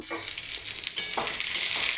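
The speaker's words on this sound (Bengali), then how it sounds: "আবার একটু নাড়াচাড়ি করে লাল লাল করে ভেজে নেব।" Pointed gourd stir-fried in oil, a bright, steady sizzle close up with a few scraping stirs of the spatula mixed in, no voices.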